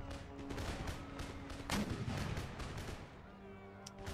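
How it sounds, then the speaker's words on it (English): Distant mortar and artillery fire in Empire Total War, a field battle with Swiss pikemen and line infantry: repeated muffled thuds and one louder boom rolling beneath a continuous battlefield din. "Might have to ignore the enemy mortars."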